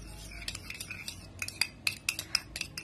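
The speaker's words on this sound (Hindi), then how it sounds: "हम यहाँ लेंगे 1 टीस्पून लेंगे रोज वाटर। इसे अच्छे से मिक्स करेंगे हम।" A spoon scrapes and clinks against a small bowl while homemade night cream is stirred together with a teaspoon of rose water: quick, irregular metallic taps and clicks, close up and fairly quiet, with no talking.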